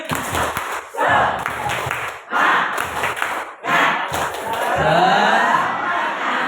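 A group does the Indonesian 'tepuk semangat' spirit clap, clapping in rhythmic bursts, several short patterned sequences separated by pauses, with shouts and cheering mixed in.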